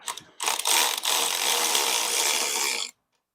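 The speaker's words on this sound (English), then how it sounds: "We're going to come in and grab our cordless ratchet once again. Run these suckers out." A cordless ratchet runs out the riser bolts on a 2025 Harley-Davidson Low Rider S. It gives a couple of short clicks and then a loud, close, continuous whir of about two and a half seconds before stopping.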